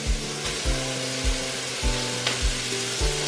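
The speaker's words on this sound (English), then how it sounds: "So, just going to put the beef straight in and then stir it up." Beef dropped into a hot oiled pan sizzles and fries steadily, with repeated scraping stir strokes roughly every half second, close and moderately loud.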